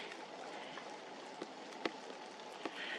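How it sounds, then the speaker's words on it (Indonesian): Rainwater drips from mountain pine needles in fog, a soft steady patter with a few sharper drops landing nearby, quiet and unaccompanied by talk. "hujan ini berasal dari daun-daun cemara gunung ini."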